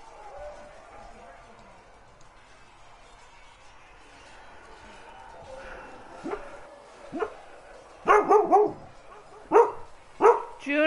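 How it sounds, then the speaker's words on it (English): A pet dog at home, heard during a gaming stream, lets out several sharp, loud barks in quick succession near the end, after a quieter stretch with a faint voice and background sound. "She hears herself barking in the stream, and it's making her bark."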